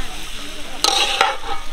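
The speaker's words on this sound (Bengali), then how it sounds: "আলুগুলো সব ভেজে নেওয়া হচ্ছে।" Potatoes fry at an outdoor cooking spot, a soft sizzle under distant background noise, broken by two sharp scraping stirs.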